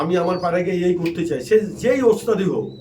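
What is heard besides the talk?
No everyday noises stand out.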